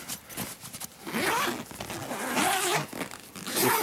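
A zipper pulled closed on a packing bag in a few uneven, raspy strokes, close and fairly loud, with no talking.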